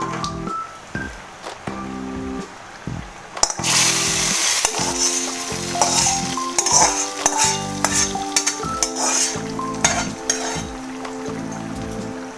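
Panch phoron spices sizzling and frying in a pan for rohu fish, a loud crackling hiss with rhythmic stirring and clinks of a spatula against the pan.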